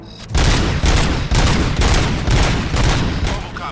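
Gunfire in the RoboCop Rogue City video game, heavy bursts of rapid automatic shots rattling in loud, closely spaced volleys, alone without talk.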